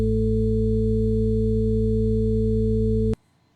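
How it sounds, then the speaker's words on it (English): Several pure sine tones, including a deep 55 Hz tone, sound together as one steady electronic chord that holds evenly, then cuts off abruptly near the end, leaving near silence. "now you're hearing something more towards a note or several notes, instead of something that sounds more like a hearing test."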